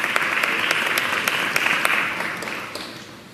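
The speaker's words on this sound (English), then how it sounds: "Let's give them a big round of applause." A crowd applauds loudly and steadily, the clapping gradually tapering off toward the end.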